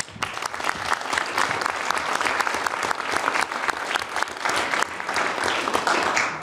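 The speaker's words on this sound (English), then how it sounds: "So give ourselves an applause." Audience applause filling a conference hall at the closing session of a steel industry open forum, dense steady clapping from many hands sustained throughout, loud and without talk.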